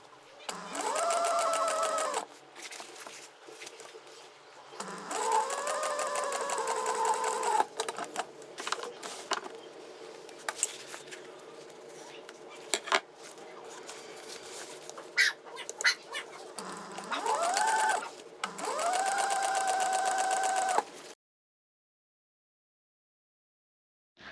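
A sewing machine stitches an extra seam through snowmobile seat vinyl on a Ski-Doo Summit SP seat, running in several long whirring passes with short pauses between them, close and steady, then going quiet at the end.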